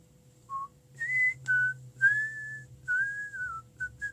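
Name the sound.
person whistling a tune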